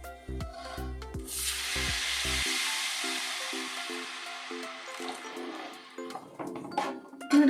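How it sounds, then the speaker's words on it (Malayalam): Mango brine poured into a hot pan of oil and well-fried chili powder for Kerala-style kadumanga mango pickle, giving a loud, steady hissing sizzle that rises sharply and runs several seconds, with faint clatter near the end. "ഈ മാങ്ങയുടെ വെള്ളം ഒഴിക്കുക കേട്ടോ."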